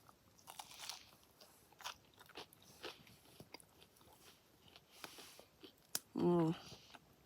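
Crunchy-bottomed campfire pizza being bitten and chewed outdoors, a series of close, crisp crunches and crackles spread unevenly over several seconds, ending in a louder muffled burst, with a voice briefly present.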